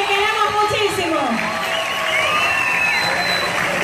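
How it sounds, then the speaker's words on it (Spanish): A crowd at a Miss Ecuador candidates' presentation in Naranjal cheers and applauds a contestant, with whoops and a loud, sustained roar blending under an announcer's amplified voice. "Fuerte los aplausos para nuestra naranjaleña"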